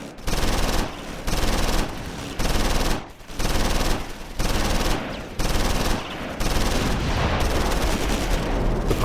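Sustained machine gun and rifle fire from the Close Combat 4 video game during a Battle of the Bulge scenario at Wiltz, coming as loud, dense bursts separated by brief pauses.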